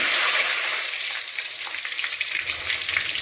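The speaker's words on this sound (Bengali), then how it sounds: "তেল গরম হয়ে গেছে যে গোটা মশলাগুলো বললাম সেগুলো এখন একটু পোড়ন দেবো" Whole spices sizzling in hot oil for a mutton curry tempering, a loud, bright, continuous crackling hiss that holds steady with small pops and no voices.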